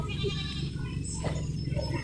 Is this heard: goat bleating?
yes